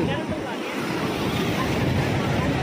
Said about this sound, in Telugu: ఇది ఎక్కువ అలలు, రాక్షస అలలు అంట ఎక్కువ వస్తున్నాయి.